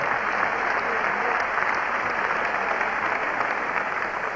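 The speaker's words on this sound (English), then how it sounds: "have a big round of applause to both young men" Steady, dense applause from a boxing crowd after a bout, honoring both young fighters, sustained and even throughout without a break.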